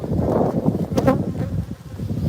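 Honeybees buzz around an open purple hive during feeding, a close, dense steady hum with individual bees droning past the ear.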